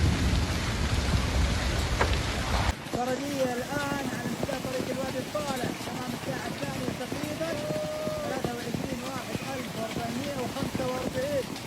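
Heavy rain with hail and strong wind sweeps across a desert, a dense roar under thunder for the first seconds before a voice talks over continuing rain.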